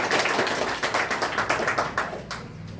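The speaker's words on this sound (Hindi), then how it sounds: "नीरज जी के लिए एक जोरदार ताली है" Audience applause at an award ceremony honouring toppers as a guest is welcomed, a dense run of many hands clapping at steady volume, tapering slightly toward the end, with no talk over it.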